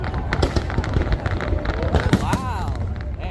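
Fireworks bursting at a July 4th drone and firework show in Boston, repeated close cracks and pops in an irregular rhythm with wind rumble on the microphone and excited voices of onlookers throughout.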